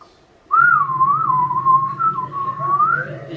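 A person whistles in imitation of a bird, a single sustained warbling tone lasting about three seconds, clear and close, on a game show where contestants make animal noises.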